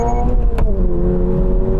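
A Toyota GR86 accelerates hard on a wet road, its engine note rising steadily and loud from inside the car, with one quick gear change early on.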